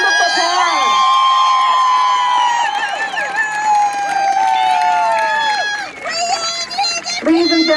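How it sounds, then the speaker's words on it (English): A crowd at a state championship softball game between Enterprise and Beaver cheers, whoops and shouts for the honored seniors, a loud and steady swell of many voices with high yells that dips briefly near the end before rising again. "Join us in congratulating these seniors with a round of applause"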